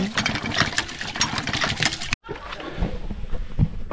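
A water pump motor at Mura's place runs with a steady mechanical whir, drops out for an instant midway, then resumes.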